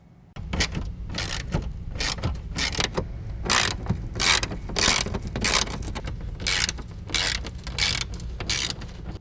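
Ratchet clicking steadily in quick bursts as screws are backed out of the fender well of a 2015 Ford F-150, close and fairly loud, with no talking.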